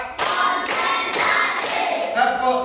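Students in a classroom clap their hands in short counted bursts, four distinct clap groups spaced about half a second apart, close and fairly loud.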